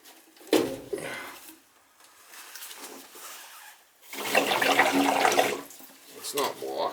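A condensate pump kicks on and drains water in a short gurgling, rushing burst, close by, with faint talk before and after.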